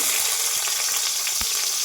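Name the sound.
onions frying in hot oil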